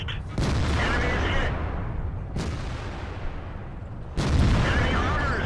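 Tank guns in World of Tanks fire three heavy booming shots a couple of seconds apart, each a loud, close blast followed by a rumbling decay.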